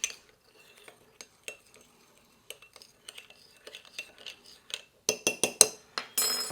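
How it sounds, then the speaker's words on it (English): A spoon clinks and scrapes repeatedly against a glass container while stirring starch and water, growing louder and faster toward the end. "So I'm just going to mix like this, make it sort of homogenize again."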